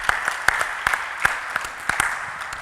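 A church congregation applauding together in acclamation during a solemn convocation service, a steady wash of many hands clapping with sharp individual claps standing out, fairly close and continuous.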